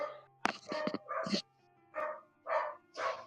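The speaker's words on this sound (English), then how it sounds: "Dog's going insane." A dog barks repeatedly in short, sharp bursts at an irregular pace. The barks are fairly close and there is no talking.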